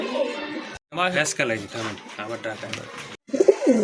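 Close, throaty pigeon coos in short bursts, with someone talking over and between them.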